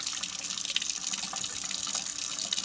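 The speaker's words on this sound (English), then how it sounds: "I'll rinse the jar out one more time." Tap water runs steadily into a sink while a jar is rinsed during rust removal, a continuous close hiss and splash with no talking.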